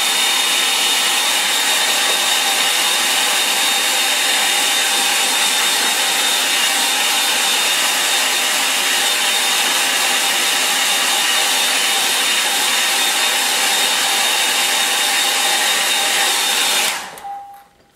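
Hair dryer blowing steadily at close range over a wet watercolour painting, a loud continuous whooshing whine lasting about seventeen seconds before it switches off and winds down.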